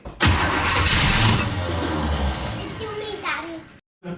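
A 1976 Chevrolet C15 truck engine cranking and firing up after fuel is added, a loud close roar of starting that settles into a rough running note before cutting out, with people talking nearby.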